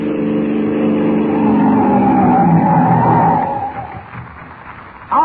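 A police car in a radio drama comes closer with a rising engine drone, then skids to a stop with a brief screech at the end, loud and alone.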